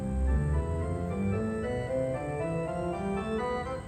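A pipe organ with several stops of shorter pipes combined plays a bright, full run of sustained stepwise notes, steady and resonant, with no voices present.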